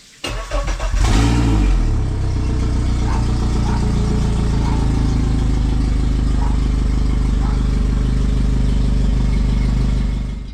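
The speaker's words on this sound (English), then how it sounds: "I'm gonna start the engine and hopefully she runs." A boat engine, just fitted with a new fuel filter, cranks with a few sputters, then catches and settles into a loud, steady idling drone for the rest of the clip; no one speaks.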